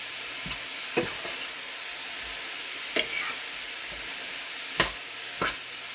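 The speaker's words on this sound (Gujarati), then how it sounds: "અને આ રીતે આપણે હલાવતા જવાનું." A utensil stirs vegetables frying in a pan for a millet-flour dosa meal, giving a few sharp scraping strokes at irregular intervals over a constant close sizzle.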